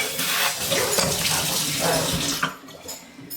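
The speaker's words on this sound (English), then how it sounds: "I just kind of dump it out and then give it a good rinse out" Water gushes and splashes from a tap as a container is rinsed out in a homestead kitchen, running loud and close before cutting off into quiet.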